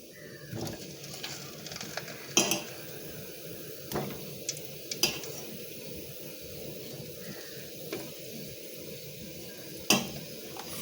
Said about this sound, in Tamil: மறுபடியும் எண்ணெயில் போடுவோம் நம்ம.